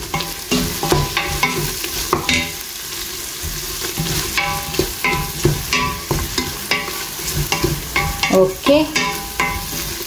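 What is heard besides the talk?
stirring a frying mix with turmeric powder in a pan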